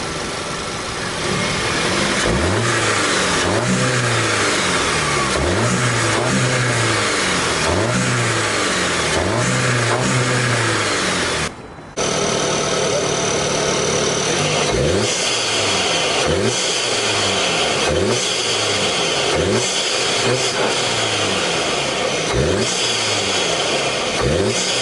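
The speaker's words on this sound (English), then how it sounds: "a sound clip from the stock intake to the aftermarket CTS intake, so you guys can hear the difference of turbo spool noise" An Audi A3 turbo engine revs again and again through a stock intake and then an aftermarket CTS intake, each loud rise carrying a whooshing spool, with a short break between the two halves.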